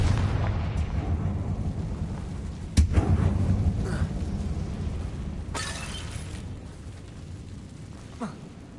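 A fiery Confringo spell blast in Hogwarts Legacy bursts with a sharp crack and booming rumble, followed by lighter bursts and a fading roar over a steady low ambient drone.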